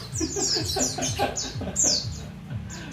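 A pleci (white-eye) bird gives quick, high, bright chirps in rapid repeated bursts, close and fairly loud over a low background, with no talking.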